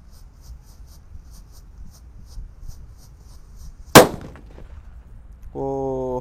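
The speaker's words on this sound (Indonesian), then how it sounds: "Lanjut kita nyalakan yang kedua ini, mercon disco buntelan." A homemade paper-bundle firecracker (mercon disco buntelan) bursts once with a sharp, loud bang. It is followed by a brief crackle, a quiet stretch and then a steady harmonic tone.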